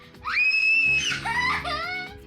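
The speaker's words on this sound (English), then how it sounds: "The volume these children generate when they scream is just incredible." A child screams loudly and shrilly at close range, one long piercing held cry followed by a few shorter wavering shrieks, over faint background voices.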